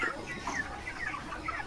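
Chickens cluck softly in a poultry shed holding about six thousand birds, a low continuous murmur of many hens with no voices over it.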